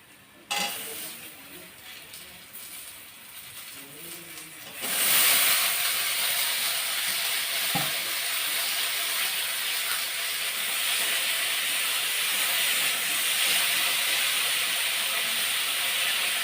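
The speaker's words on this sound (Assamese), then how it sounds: "এতিয়া মই বিলাহীখিনি ভালকৈ ভাজি লওঁ" Tomatoes sizzle steadily in a hot pan, a loud continuous frying hiss that starts abruptly after a few quieter seconds of stirring and clinking.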